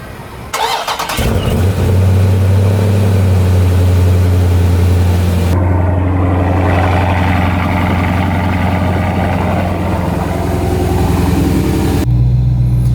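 A Procharger supercharged Dodge Scat Pack cranks and fires up close by with a loud roar, then settles into a heavy, rumbling idle with a steady high whine running over the engine note.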